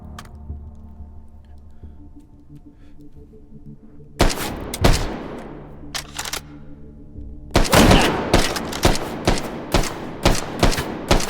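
Gunfire erupts in the VR shooter H3VR: after a quiet hum, a few sharp single shots crack, then a rapid string of loud, close bangs follows in quick, fairly regular succession.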